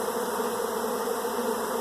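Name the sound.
honeybee swarm pouring out of a hive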